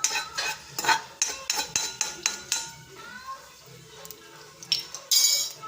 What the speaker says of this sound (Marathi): थोडंसं त्याला असं परतून घ्यायचं, एक ठिकाणी राहिला नाही पाहिजे